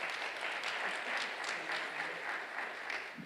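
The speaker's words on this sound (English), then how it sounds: "We can give her a round of applause." Audience applause fills a conference hall after an introduction at a clinical research and engagement event, a steady even clapping held for a few seconds at moderate distance with no speech over it.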